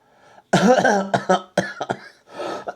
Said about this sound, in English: let's get our coughs out.